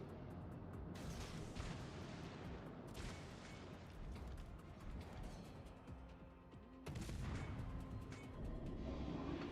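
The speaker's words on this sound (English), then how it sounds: "I'm actually going to fill that smoke with torpedoes." Torpedoes being launched in the naval combat video game World of Warships, a dense stretch of booming mechanical launches and gunfire that carries on throughout, with a louder burst of blasts late on.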